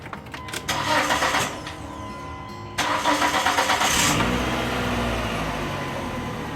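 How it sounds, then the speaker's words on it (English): A 2002 Dodge Neon cranks and starts after a front brake job, the starter whirring briefly, then the engine catching and settling into a steady idle, close and fairly loud. "So now this car is ready to be started up and test drove."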